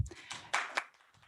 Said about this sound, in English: give a big round of applause for our first speaker, Ibu Kuki Suyahmun.